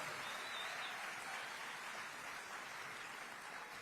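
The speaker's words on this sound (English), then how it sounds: "Give yourselves a big round of applause for the work that you did and the work that he's done." Convention audience of educators applauds in a continuous, even hiss of many hands, sounding distant and fairly faint, with no talk over it.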